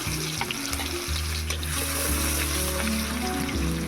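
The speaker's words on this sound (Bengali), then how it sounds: "ফোড়নটাকে একটু ভালো করে ভেজে নেব" Dried red chillies, nigella seeds, garlic and bay leaf sizzle in hot mustard oil in a village kitchen, a steady close crackle and hiss with a low hum underneath.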